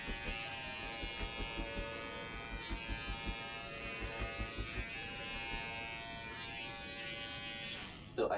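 An electric carver buzzes over the pile of a tufted rug, trimming the corners into a slope, with a steady motor drone pulsing in short repeated passes, fairly quiet, ending in a brief louder knock.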